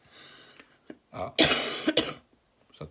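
A person coughs several times in short bursts, with one strong hacking cough in the middle and a throat-clearing sound, close and clear.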